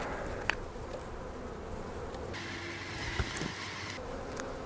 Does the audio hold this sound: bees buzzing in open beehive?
yes